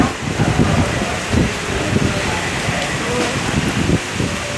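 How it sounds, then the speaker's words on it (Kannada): Heavy rain pours down steadily across a city in a dense, loud hiss, with faint rumbling under it and low voices briefly audible. "ಸಂಜೆ 5 ಗಂಟೆ ವೇಳೆಗೆ ನಗರದಲ್ಲಿ ಸುರಿದ ಮಳೆಯಿಂದಾಗಿ"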